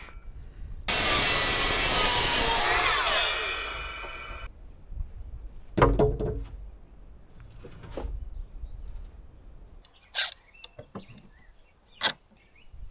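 Hand saw cutting through a stack of timber rafters lined up together for a timber canopy, a loud sustained rasping run of about three seconds, then scattered knocks and clanks of wood and tools.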